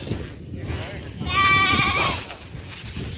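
Goats and sheep in a herd on a Saudi farm, driven by a Sudanese herder, let out a loud, wavering bleat that lasts close to a second, with low chatter and murmuring voices around it.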